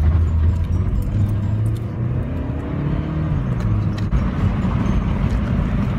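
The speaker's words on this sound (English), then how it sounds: "Sorry, all these freaking potholes." A car drives over a pothole-ridden road, a steady close-up engine and road rumble with low droning tones running evenly for several seconds and no talking.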